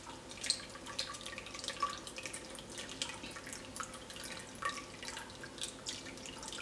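Tap water runs over strained chenna (cottage cheese) in a kitchen sink, a steady close trickle with scattered drips and splashes throughout, no talking.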